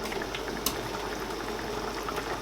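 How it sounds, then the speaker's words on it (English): Chicken pieces stewing in a pot on the stove in their own juices, with no water added, giving a steady, close hiss of bubbling that runs the whole time with one brief sharper pop near the start. "It's still boiling with its own water."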